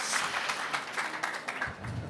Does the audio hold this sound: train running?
no